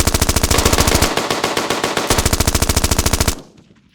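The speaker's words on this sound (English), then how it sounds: "Got to shooting." Rapid automatic gunfire in a drive-by shooting scene, a loud sustained burst of evenly spaced shots that cuts off abruptly, leaving a fading echo.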